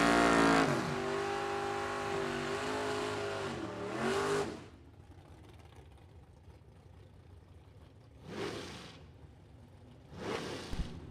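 A 1978 Chevrolet Malibu and a Camaro race at a drag strip, loud engines roaring and revving at launch, then fading as they pull away, followed by two more distant roars from cars passing or engines revving.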